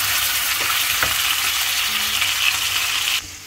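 Chicken liver (kaleji) fries on a hot tawa griddle with a steady, bright, close sizzle and faint stirring scrapes, continuing loudly for about three seconds before dropping abruptly to a quieter hiss.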